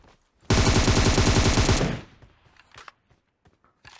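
Rapid automatic rifle fire from a PUBG match, a single loud sustained burst of close gunshots lasting over a second, followed by a few faint scattered shots and background game sounds.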